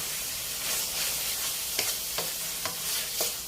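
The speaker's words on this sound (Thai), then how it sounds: "ผัดให้เข้ากันนะคะ" Round gourd stir-fries with pork belly, chili and shrimp paste in a hot pan: a constant close sizzle and hiss, punctuated by a few sharp spatula scrapes and taps as the mixture is tossed.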